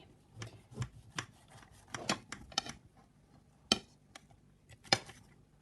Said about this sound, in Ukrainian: Ми зараз спробуємо його розрізати і побачити, який він є у середині.